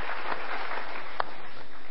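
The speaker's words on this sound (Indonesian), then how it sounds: "kita berikan tepuk tangan untuk Anda yang sudah memilih pollingnya" Studio audience applause on an Indonesian talk show, a steady wash of clapping filling the short stretch at moderate volume with no talk over it.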